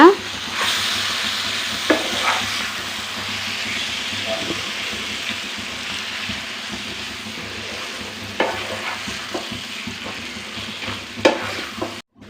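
Grated raw mango being stirred into a hot pan for a mango thokku, a continuous sizzle with scraping spoon strokes and a few louder clatters, no talking.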